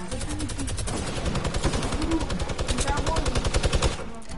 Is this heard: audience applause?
no